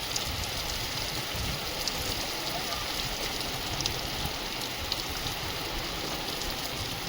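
Steady rain falls with an even, continuous hiss that never lets up, spread wide around the listener.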